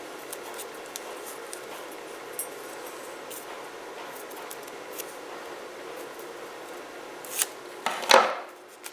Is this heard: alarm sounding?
no